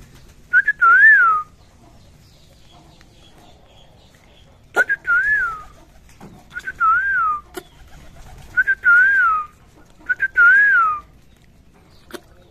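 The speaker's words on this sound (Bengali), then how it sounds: "এটা অরিজিনাল রেসার কবুতর আমার" Racing pigeons give repeated rising-and-falling whistling coos in short bursts of two or three, spaced a second or two apart, close and clear against a quiet background with occasional sharp clicks.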